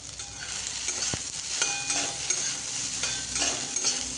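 Okra being stir-fried in oil in a pan over a high flame, a continuous close sizzle broken by scraping stirs and clinks from a spoon, with no voices.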